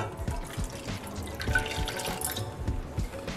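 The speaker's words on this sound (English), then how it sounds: "So to my pot here, I'm gonna add 3/4 cup of Guinness." Guinness stout poured into a cooking pot, a steady close liquid splash and trickle with small drips, continuous throughout without speech.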